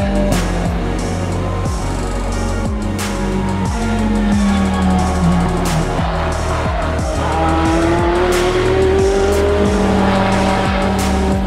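A Ferrari 488 GT3 race car is driven hard on a circuit, its engine note loud and continuous from onboard, rising and falling through sharp gear changes with tire squeal and rushing wind.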